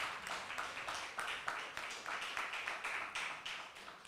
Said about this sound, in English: warm Christchurch applause